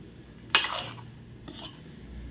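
A spoon clinks and scrapes against a pan while green chili pickle is stirred into hot oil: one sharp clatter and rustle, then a softer second scrape, close by.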